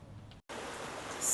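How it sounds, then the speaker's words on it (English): Rain falls outdoors as an even hiss of drops, cut off by a brief moment of silence before resuming steadily, with no talking. "oh, it's raining."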